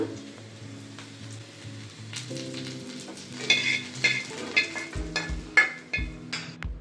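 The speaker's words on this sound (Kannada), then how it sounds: "ಇವಾಗ ಗೋಲ್ಡ್ ಕಲರ್ ಬರೋವರೆಗೂ ಹುರ್ಕೋಬೇಕು." Onion, garlic, ginger and green chili sizzle steadily in a pan, with soft scraping and clinking as they are stirred, close and fairly quiet with no talking.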